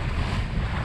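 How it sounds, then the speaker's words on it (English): Strong wind blows across a sailboat at sea: a brief, loud, steady broadband rush with a low buffeting rumble. "So it's been pretty blowy out here."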